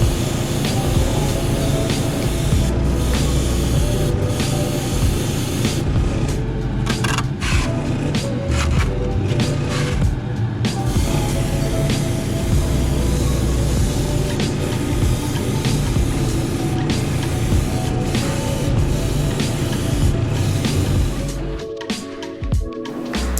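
A Badger airbrush sprays paint with a continuous airy hiss, joined by a low compressor-like rumble, running steadily for over twenty seconds before easing off near the end.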